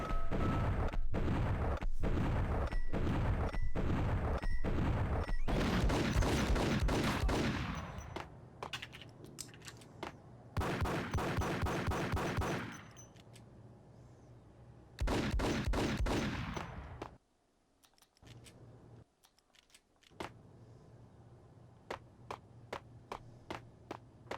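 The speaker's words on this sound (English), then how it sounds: "I have been tap firing the pistols this entire time." Pistols tap-fired in the video game Max Payne 3: a steady run of evenly spaced sharp shots, then several long dense bursts of rapid gunfire separated by quieter gaps, loud and close.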